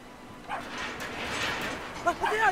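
A dog in the video game Brothers: A Tale of Two Sons gives several short whimpering yips and barks, mixed with people talking over a noisy background.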